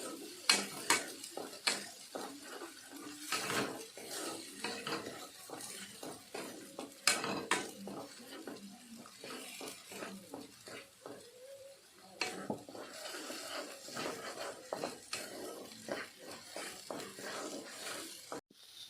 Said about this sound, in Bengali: গাজরের পেস্ট দিয়ে দিলাম ভালোভাবে কষিয়ে নিতে হবে